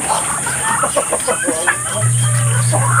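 Brahma chickens cluck softly under their coop, with scattered low calls over a steady background hum and hiss.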